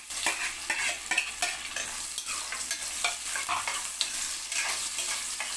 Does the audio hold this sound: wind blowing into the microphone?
no